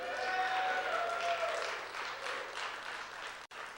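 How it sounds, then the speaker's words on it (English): A church congregation claps and cheers steadily at moderate volume, the applause gradually thinning before a brief cut near the end. "so I want everybody to cheer for that."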